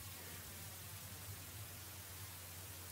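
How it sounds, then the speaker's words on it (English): Broadband white noise put through comb filtering whose time delay slowly changes, giving a steady hiss with faint shifting tonal ripples and a low hum underneath, loud and continuous with no voices. "of comb filtering at different time delays. And it's quite significant on white noise."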